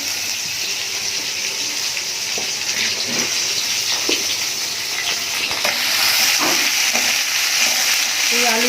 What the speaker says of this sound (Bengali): পাঁচ ফোড়ন দিলাম আমি আলুগুলো ভাজবো আলুগুলো ভেজে নেবো